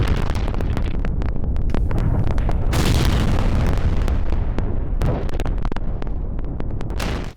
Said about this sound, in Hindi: ईरानी मिसाइल से जोरदार धमाका हुआ